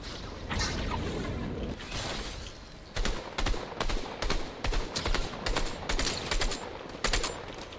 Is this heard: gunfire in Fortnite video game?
yes